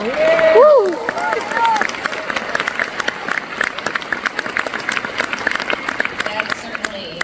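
Graduation ceremony crowd breaks into broad, continuous applause after a brief exclamation, the clapping dense and steady, moderately loud, with a faint murmur of voices underneath.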